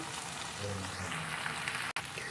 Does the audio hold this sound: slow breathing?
no